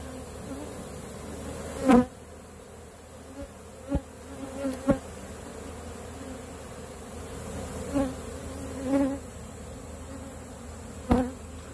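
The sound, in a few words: honeybee swarm buzzing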